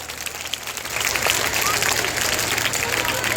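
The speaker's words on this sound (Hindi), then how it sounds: "अब एक बार जोरदार ताली बजाओ" Children clapping hard on request in a coaching-centre classroom, faint at first, then swelling to loud, steady applause that carries on with background voices.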